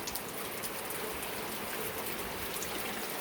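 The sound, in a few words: rain falling outside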